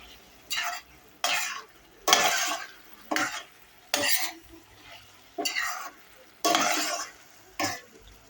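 Chopped garlic stirred in a frying pan: about nine separate scraping strokes at a steady pace, each with a soft sizzle, near and fairly loud.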